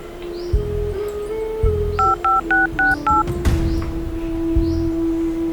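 A phone keypad dialed in a quick run of about six clear DTMF beeps, close and evenly spaced, over a steady low hum with faint background noise.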